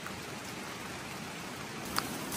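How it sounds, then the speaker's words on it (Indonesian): Rain falls in a forest by a river headwater, a soft, even hiss of drops that stays faint and steady throughout, with no voices. "Mumpung belum begitu lebat hujannya."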